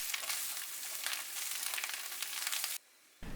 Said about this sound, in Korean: 꽈리고추 넣고 센 불로 1분 볶아주세요